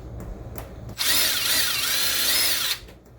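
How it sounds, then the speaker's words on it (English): A power drill with a 9/64 drill bit bores into a lightsaber part during a conversion, whining steadily for under two seconds after faint clicks, then stopping. "So grab my drill, and I'm using a 9/64"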